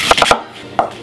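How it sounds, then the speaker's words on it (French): A yellow knife chops an onion into large pieces on a board, giving three quick, close, sharp thuds followed by one more after a short pause. "oignon, couteau jaune bien sûr, en gros morceaux"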